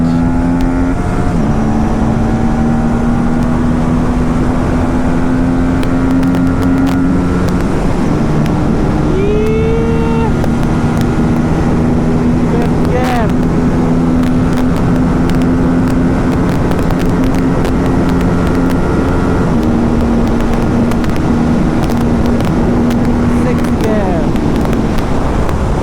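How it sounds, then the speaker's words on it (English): A TVS Apache RS 457 motorcycle running on the road with its quick shifter: a sustained engine note steps through several upshifts, each gear change a brief dip before the tone climbs again, heard up close with heavy wind rush. "Did you see how the quick shifter and auto blipper performs on the 457?"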